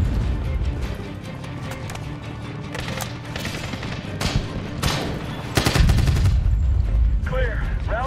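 Heavy gunfire in the Medal of Honor (2010) single-player campaign, a dense battle mix of rifle and machine-gun bursts that swells louder near the end, with faint voices underneath.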